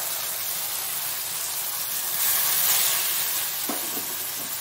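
Onion fries in hot oil in a pan with mustard seeds, giving a steady close sizzle that swells for a moment and then settles, with a brief clink near the end and no talk.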